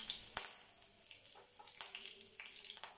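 Curry leaves dropped into hot oil with mustard seeds and cumin for vermicelli upma, giving a faint, close crackling sizzle with scattered sharp pops over a few seconds.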